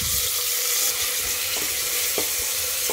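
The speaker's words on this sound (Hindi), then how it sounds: "इसे गोल्डन ब्राउन होने तक हम इसे भून लेंगे" Onion frying toward golden brown in a pan for tomato pulao, a loud continuous hiss of oil with intermittent scraping knocks from stirring, heard close and without speech.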